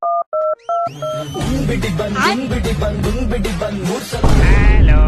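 Three short keypad tones ring out as a phone number is dialed, then loud music with voices takes over.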